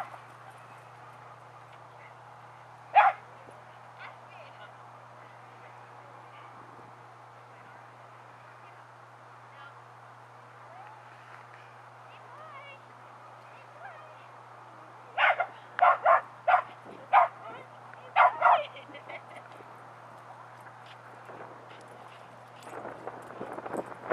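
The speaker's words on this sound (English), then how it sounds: "Go play with the doggies." Dogs barking at an outdoor dog park, a single sharp bark early on, then a quick cluster of repeated barks midway and more at the end, over a faint steady hum, with little talking.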